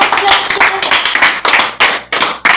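Schoolchildren in a kids' class clap for a classmate, producing several short bursts of hand claps with brief pauses between them, fairly close and loud.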